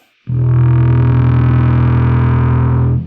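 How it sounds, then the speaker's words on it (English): A single sustained bass guitar note through a Crybaby bass wah pedal, thick and slightly distorted, swelling in and holding steady before cutting off. "Just the crybaby, the bass wah."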